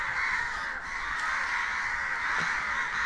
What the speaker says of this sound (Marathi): वरती कावळे होते लय ओरडतात.